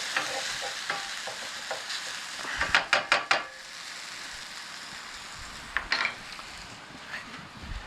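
Shredded potatoes sizzle steadily in a hot pan for a chorizo breakfast burrito, a close, even crackle broken by a few sharp scrapes and knocks of a utensil stirring them, with no one talking.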